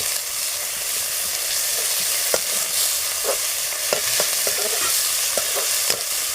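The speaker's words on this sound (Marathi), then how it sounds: "लसूण पेस्ट एक चमचा अंदाजे लसूण पेस्ट ती पण परतून घेऊ" A spoonful of garlic paste sautés in a hot pan for a traditional kel flower vegetable dish, with a constant sizzle and a few scraping stirs of the spoon, close and with no voices.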